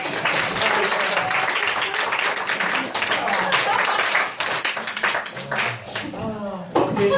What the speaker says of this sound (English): Big round of applause again for Mr. Mike.